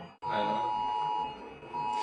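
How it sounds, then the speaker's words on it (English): A cell phone beeps in a classroom during a math lecture, a steady high electronic tone sounding through most of the moment with a short break, over background murmur and voices. "it's someone's cell phone"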